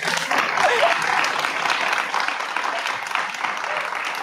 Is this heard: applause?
yes